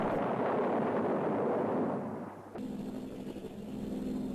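Bombs dropped by American air force planes explode in a loud, rumbling, sustained roar. The roar fades and cuts off abruptly, followed by a quieter tonal background.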